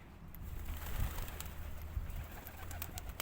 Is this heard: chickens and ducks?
no